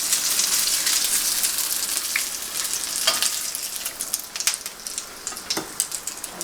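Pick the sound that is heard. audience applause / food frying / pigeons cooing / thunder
food frying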